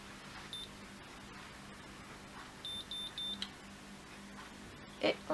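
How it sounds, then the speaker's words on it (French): Three short, high electronic beeps from a Babyliss Pro curling iron in quick succession, faint against a low steady hum, followed by a brief clatter. "Donc comme toujours on attend les 3 bips successifs."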